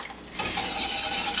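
Cocoa powder, melted butter and boiling water stirred together in a saucepan on medium heat, with a soft scraping stir and light bubbling sizzle that grows louder after the first half second, continuous and close.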